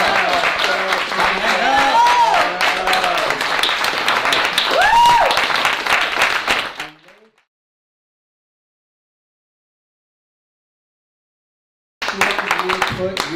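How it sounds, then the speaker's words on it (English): An audience at a literary reading event claps loudly together with some cheers, then the applause cuts off abruptly and starts again after a silent gap. "I guess one more round of applause"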